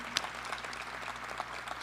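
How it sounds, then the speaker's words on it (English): Applause for EMS cadet graduates at a graduation ceremony in Cleveland, a steady patter of clapping at a fairly faint, distant level with a few sharper claps standing out. "Let's give them a round of applause."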